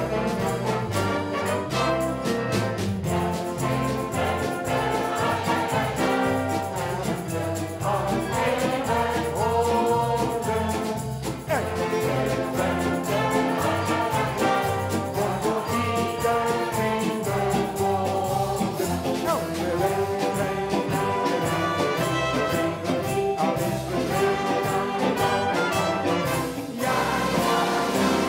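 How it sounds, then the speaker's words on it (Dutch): Music plays continuously through De Diekman stadium as the first song of a football match day, loud and dense throughout with no clear gaps, the crowd blended into the full sound. "Het eerste liedje. Het klonk zo lekker door het stadion de Diekman heen."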